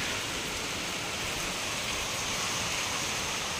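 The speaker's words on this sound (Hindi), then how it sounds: "देखो तो कितनी बारिश" Heavy morning rain pours down steadily in a constant, loud hiss of dense drops with no break and no voices.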